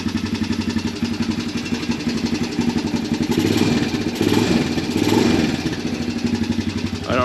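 An old Honda Recon ATV engine idles steadily with a rapid, even low-pitched chug, close by and fairly loud, swelling slightly a few times.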